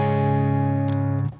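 Fender Ultra II Telecaster electric guitar on the middle pickup position: a single sustained chord rings out clearly and loud, with a brief pick or string noise near the end before it is cut short.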